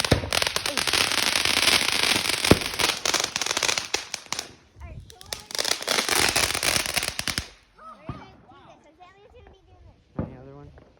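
Fireworks set off outdoors: a dense run of loud crackling firecracker bursts with sharp bangs for several seconds, a pause, another crackling barrage, then quieter moments with people talking nearby and a final pop.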